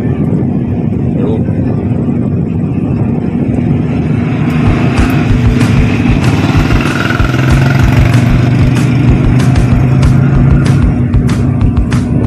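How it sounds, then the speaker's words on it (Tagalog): A window-type inverter air conditioner's compressor runs with a steady, close mechanical hum and drone throughout, with sharp clicks and taps scattered over the second half. "Maandar na ang compressor."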